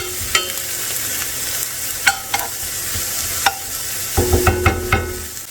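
Sliced bell peppers and onions sizzle in a hot pan for shepherd's pie, with a steady frying hiss broken by sharp clacks and scrapes as a spoon stirs them, heard close and with no talking.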